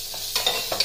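Garlic and ginger being stirred together as they fry, a brief close sizzle with a few quick scraping strokes of a spoon.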